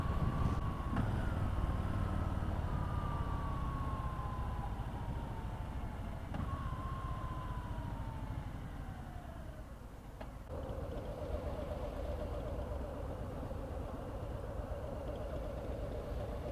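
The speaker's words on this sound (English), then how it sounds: "This bike has a bit of a whine to it." A 2018 Harley-Davidson Low Rider with a counterbalanced Milwaukee-Eight engine runs with a steady mechanical rumble, and a thin, high whine glides downward in pitch twice over the continuous drone.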